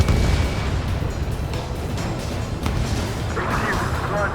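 A missile explosion destroying an enemy vessel in Ace Combat 7: a heavy boom and crash at the start that rumbles away under jet noise, with radio voices speaking over it.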